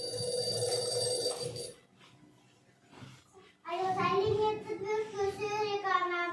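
An old-style telephone bell rings in a continuous trill, then a brief pause before a child-like voice speaks over a ringing, melodic tone, as in a cartoon fairy tale.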